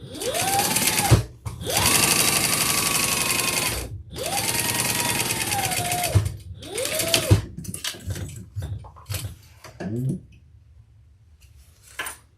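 Sewing machine stitching a Lola handbag flat, running in several sustained bursts with pitch rising and falling as speed changes, separated by brief pauses, then shorter stop-start stitches trailing off into quiet handling.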